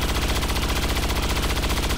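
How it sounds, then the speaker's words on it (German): Rapid automatic gunfire from a risky shot in the video game XCOM 2, a steady burst of evenly spaced loud reports running for about two seconds with no talking. "Wir müssen den riskanten Schuss probieren."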